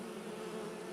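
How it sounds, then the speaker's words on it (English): Bees in Skyrim give off a steady, low insect buzz, a constant droning hum that stays even and fairly close for a moment with no voices over it. "This is quite loud, bees, actually."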